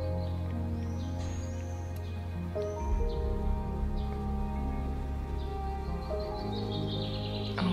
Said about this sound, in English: Oh, birds are singing so pretty.